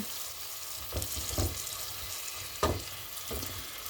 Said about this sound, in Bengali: টমেটো দিয়ে দিয়ে এখন একটু কষাবো